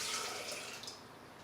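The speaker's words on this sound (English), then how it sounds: "we're going to put about half a cup of water in there" About half a cup of water pours into a standard kitchen blender, a brief close splashing rush that tails off quickly.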